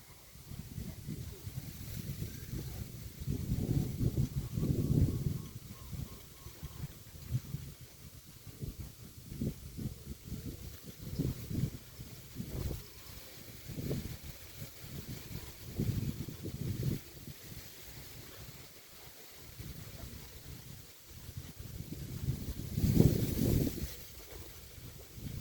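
Strong wind blows across an open outdoor spot in gusty, roaring surges, buffeting the microphone with loud low rumble that swells and eases throughout, loudest near the start and again toward the end.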